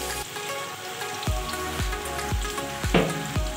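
Green onions for fried rice fry in hot oil with a dense, rain-like crackle, broken by a series of regular low thuds as they are tossed or stirred, close and fairly loud.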